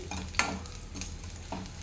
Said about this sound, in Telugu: కొంచెం పచ్చిమిర్చి వేగిపోయింది